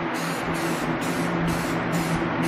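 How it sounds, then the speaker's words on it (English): A spray paint can lays down a base coat, giving a steady, loud hissing spray held close with slight pulsing, with no talk. "now we're just spraying the base coat"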